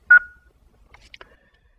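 A Kia Bluetooth hands-free system sounds its prompt tone: a short, clean electronic beep that fades, followed by a few faint, quiet electronic blips.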